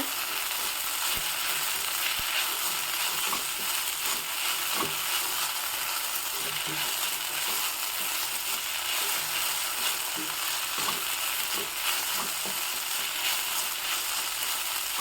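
Coriander and cumin frying in oil for a traditional Mangalorean dish, a steady broad sizzle with scattered small crackles and pops throughout, close and continuous, with no talking.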